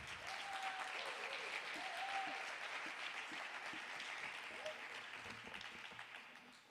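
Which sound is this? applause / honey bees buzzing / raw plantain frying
applause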